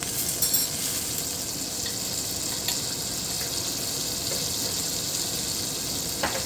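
Garlic sizzles steadily in a hot pan while stir-frying cabbage with garlic butter shrimp, a loud, continuous frying hiss broken by occasional stirring clinks.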